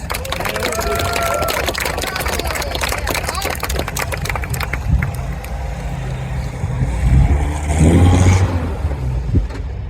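A Mutt military jeep idles steadily up close, its low rumble swelling into a louder rev near the end, with people talking over the engine.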